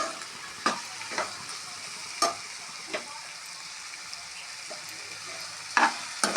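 Green chillies and chilli powder fry in oil with a soft, steady sizzle, broken by a handful of sharp scraping stirs spread unevenly through the clip; no one talks.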